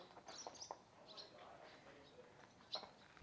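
Birds chirp faintly at an abandoned boys' home by Cedar Lake, a few short high calls scattered over quiet surroundings with soft voices nearby.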